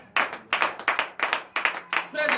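During a French-language morning prayer service in Benin, a congregation claps in acclamation, a series of sharp, loud, uneven bursts of hand claps with short gaps, close and reverberant.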